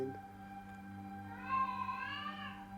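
A cat gives a drawn-out, wavering meow partway through, fairly faint over a quiet indoor hum, with no talk.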